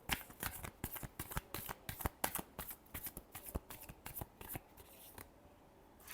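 Tarot cards are shuffled by hand in a quick, irregular run of crisp riffling slaps and flutters, close and fairly quiet, tapering off toward the end with no talking.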